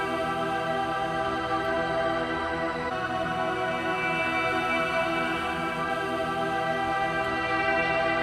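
A sustained, breathy woodwind-like melody plays with thick, washy reverb, tones smeared and lingering, steady and alone without voices.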